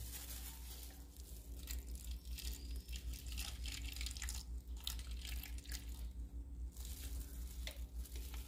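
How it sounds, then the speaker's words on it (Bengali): Roughly 65 ml of water goes into caustic soda for homemade soap, giving a steady fizzing, sizzling hiss with light dripping and trickling close by and no talk over it. "65 ml মতন জল আমি এর মধ্যে দিয়ে নিয়েছি।"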